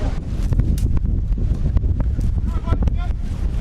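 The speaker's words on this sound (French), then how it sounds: "Le vent qui se lève" Wind gusts against the microphone at an outdoor Canadian championship sports game, a loud, continuous buffeting rumble with rustling.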